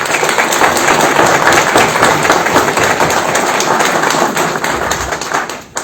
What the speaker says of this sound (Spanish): Un aplauso por favor para el autor.